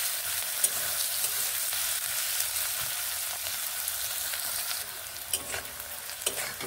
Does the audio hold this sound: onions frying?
yes